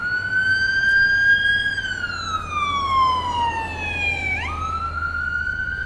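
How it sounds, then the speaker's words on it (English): Ambulance siren wailing loudly and steadily as it passes along a street near Armdale Rotary, with a clear pitch drop as it goes by, over constant traffic rumble. "Ambulance going."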